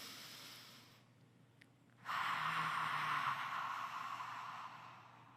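A deep breath drawn in through the nose and released out through the mouth, a soft rush of air that swells after a quiet pause and holds steady for several seconds, close and unaccompanied by talk.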